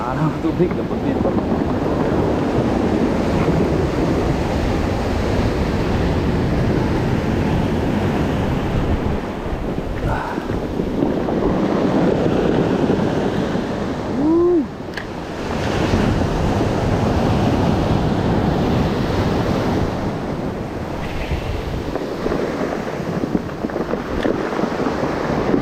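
Strong sea water and waves around a small boat while fishing, a loud continuous rush of surf and churning water mixed with wind buffeting the microphone, with a voice talking intermittently.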